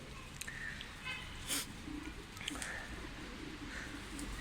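Young pigeons coo softly, producing a few faint, low calls over a quiet background hiss.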